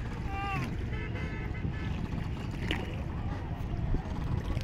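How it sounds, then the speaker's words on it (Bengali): A boat ride on the Mahananda river: a steady low rumble of the boat and moving water fills the scene, with a brief high chirp early on and faint, indistinct background voices. "আজকে আমরা সেই মহানন্দায় নৌকাতে চড়ে ঘুরছি।"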